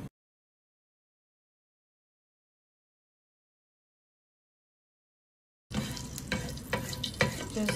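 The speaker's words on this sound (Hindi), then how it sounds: "एक छोटे चम्मच मैंने ऑयल ली है, आधा चम्मच जीरा डालूंगी" Cumin seeds sizzling in a small amount of hot oil, a dense crackling fry that starts abruptly after a long stretch of silence and continues steadily to the end, close and moderately loud.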